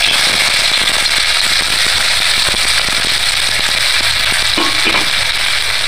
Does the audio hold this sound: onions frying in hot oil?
yes